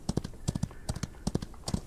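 In the western game Outlaws of the Old West, a horse's hooves clip-clop in a steady, evenly paced rhythm of crisp knocks, heard close and clear with no talking.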